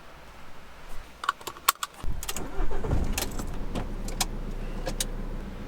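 A camper van in South America: clicks and rattles, then the engine cranks and catches, settling into a steady idle hum as it begins to pull away.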